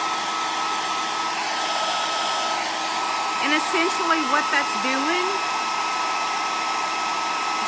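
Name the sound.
blow dryer running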